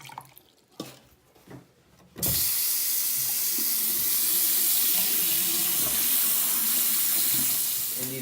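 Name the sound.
water pouring down a lab sink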